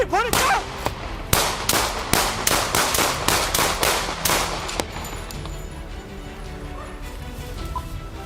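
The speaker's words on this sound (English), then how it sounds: ".223 shots fired." A rapid string of about a dozen sharp gunshots rings out during a police confrontation with an armed suspect, loud and close at first, then the shooting stops and leaves a quieter background hum.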